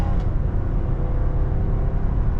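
A 2014 VW Tiguan R-Line accelerates up to 60, heard from inside as a steady low engine rumble and road noise, fairly loud and continuous.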